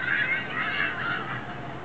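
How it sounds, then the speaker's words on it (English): Squawking, honk-like bird cries from the Angry Birds game play on a NookColor tablet running Honeycomb, fairly loud and continuous, with no talking over them. "So let's try running Angry Birds on it."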